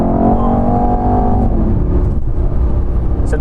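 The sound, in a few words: Mercedes E63s AMG accelerating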